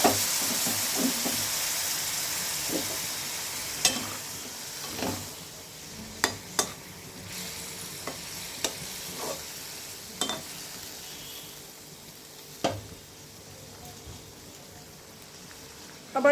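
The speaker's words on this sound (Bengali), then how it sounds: "এবার এতে আমি একটু সামান্য গরম জল দিয়ে দিচ্ছি" A splash of hot water goes into a sizzling pan, followed by a soft steady hiss and frying crackle with scattered scrapes and clinks of stirring throughout.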